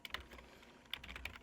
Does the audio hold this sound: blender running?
no